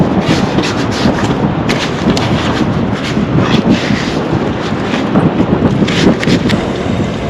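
Strong, steady wind buffets the microphone outdoors while breadcrumbed razor clams are being prepared for the pan, a constant broadband roar with gusty swells and no talk.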